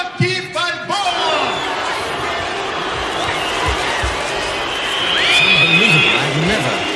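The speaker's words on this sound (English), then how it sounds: "In all my years, seen such a hostile crowd" A hostile boxing arena crowd roars for Rocky Balboa and Ivan Drago before their fight, a loud sustained wall of shouting and cheering with voices talking over it.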